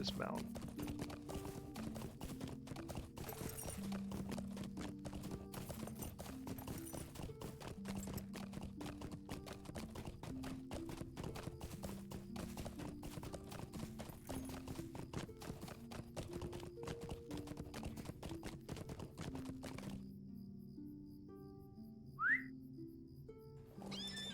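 A horse's hooves clip-clop at a steady, quick rhythm while riding along a road in the online game Lord of the Rings Online, a continuous close patter over faint music, ending abruptly with a short whistle-like cue.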